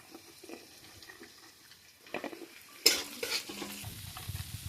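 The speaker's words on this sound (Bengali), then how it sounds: "কাঁচা লঙ্কা প্রথমে দিয়ে দিলাম, এরকম পেঁয়াজগুলো ভেজে নেবে" Green chillies, onions and vegetables fry in a pan for egg chow mein, with quiet scraping and stirring at first, then a sudden louder sizzle and clatter as more goes in, continuing close and steady.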